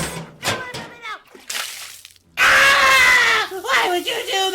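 Five gallons of spit water are dumped onto a woman's face in a Wizard of Oz parody, a loud sustained splash and slosh that cuts in after people talk and is followed by shrieking.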